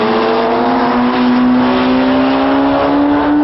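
Kawasaki ZX-12R and Suzuki Hayabusa sport bikes running flat out down a track straightaway, a loud, steady high-revving engine wail that climbs slowly in pitch with no talk.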